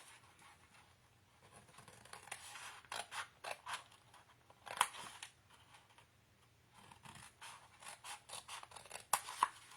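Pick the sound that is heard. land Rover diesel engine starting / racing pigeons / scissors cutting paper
scissors cutting paper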